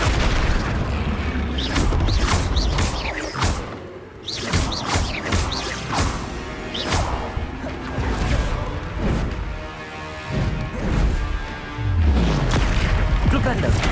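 Explosive Confringo and Bombarda spells going off in the video game Hogwarts Legacy, a string of heavy booms and crashing bursts amid combat noise, with a voice calling out over the blasts.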